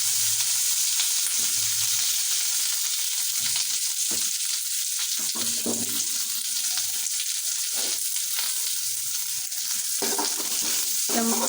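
Oil frying hard in a pan while the base for a chicken curry is roasted, a continuous loud sizzle and crackle with occasional stirring scrapes and no talking.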